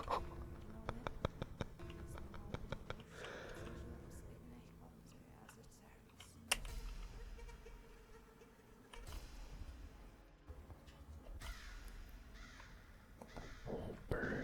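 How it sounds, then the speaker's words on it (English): Crows caw in scattered, faint calls within The Stanley Parable video game, mixed with soft tapping and patter close by. A hushed, whispering voice talks over parts of it. "Oh, birds."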